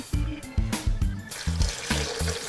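Water poured into a pot of hot lemon tea, a splashing trickle broken into short bursts with brief pauses between, close and fairly loud, with faint kitchen handling noises.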